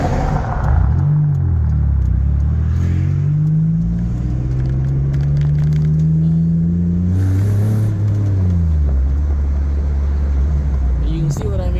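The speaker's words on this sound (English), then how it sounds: "You get on the throttle, and she wakes up, starts making some noise." A 1995 Toyota Celica GT's engine rises and falls as the throttle is pressed, rumbling close and loud through several climbing revs, with someone talking over it.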